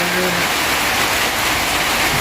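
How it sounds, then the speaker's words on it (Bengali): Morning rain pours down outside, a dense, even hiss close by that fills the whole moment, with a brief voice at the very start. "সকাল সকাল বৃষ্টি হচ্ছে"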